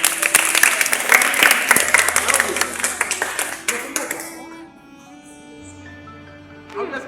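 A church group's catechism class on the sacraments bursts into dense, loud clapping, which carries for about four seconds before trailing off into a quieter room with a faint lingering tone.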